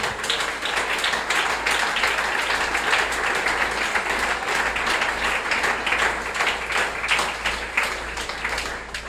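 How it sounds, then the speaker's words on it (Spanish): A church congregation claps in sustained, dense applause during a service, loud and continuous from start to finish before easing slightly at the end. "Y a su nombre, de un aplauso a Jesucristo."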